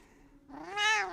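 A pet cat named Mariner Kitty gives a single rising, drawn-out meow, close and clear, after a brief quiet moment.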